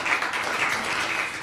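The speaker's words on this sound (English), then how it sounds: "that deserves a round of applause" Applause at a town council meeting, a steady wash of clapping from the audience, fairly even in loudness and heard on its own without talk.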